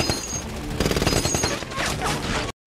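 Rapid bursts of gunfire crackle in a dense, loud volley lasting a couple of seconds before cutting off abruptly.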